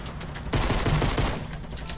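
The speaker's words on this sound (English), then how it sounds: "The other guy's shooting at me." Fortnite Battle Royale gunfire breaks out suddenly after a quiet moment, a quick burst of loud, closely spaced shots that then trails off, with no talk over it.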